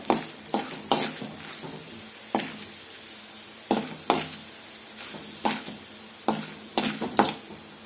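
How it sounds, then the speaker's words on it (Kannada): Chana dal and urad dal frying in a pan with a spoon stirring, a low sizzle punctuated by regular scraping strokes and light clinks, close by and with no speech. "ಸೇರಿಸ್ಕೊಂಡು ಸ್ವಲ್ಪ ಫ್ರೈ ಮಾಡ್ಕೊಳ್ಳೋಣ"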